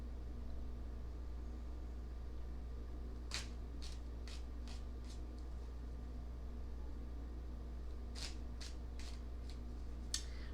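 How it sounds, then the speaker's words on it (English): Quiet room hum with two short bursts of riffled card shuffling, a quick series of crisp flutters each time, faint and close. "I'm going to give this fourth deck one more good shuffle"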